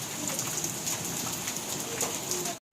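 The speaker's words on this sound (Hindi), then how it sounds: "कितनी तेज तेज बारिश हो रही है" Heavy rain pours steadily in a dense, continuous hiss with no breaks, loud and close, cutting off abruptly at the end.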